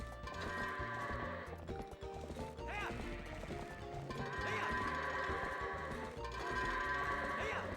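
Goat bleats in the Twilight Princess video game, sounding over steady, loud game music with clip-clopping hoof sounds, several repeated calls spread across the stretch.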